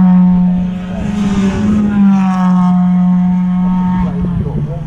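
TVR Griffith 500 race car fitted with a big diffuser, passing at Castle Combe circuit during a BRSCC race weekend; a loud steady engine drone with rising and falling pitch as it goes by, close and continuous.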